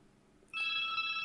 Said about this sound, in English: My house line is ringing.